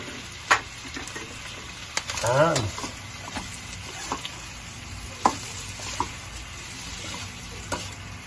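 Onion and garlic frying in oil, with rendered pork fat, for pork gising-gising: a continuous close sizzle broken by sharp clinks and scrapes of a utensil stirring the pan, and a brief burst of louder crackling.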